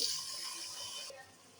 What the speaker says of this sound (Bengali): কাঁচামরিচ দেওয়ার পরে এখন দিয়ে দেবো একটু পানি।